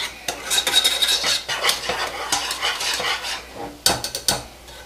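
A whisk scrapes and clatters around a pot of caramel in quick irregular strokes, metal tapping against the pan sides in bursts with brief pauses, close and fairly loud.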